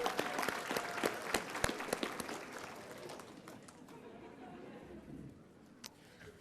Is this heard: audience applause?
yes